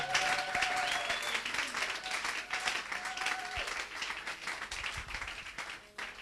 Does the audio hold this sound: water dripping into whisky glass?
no